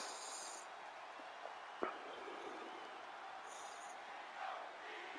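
A WWE 2K22 arena crowd in Phoenix roars in a steady, distant wash of cheering, with a couple of brief whistling tones near the start and again partway through.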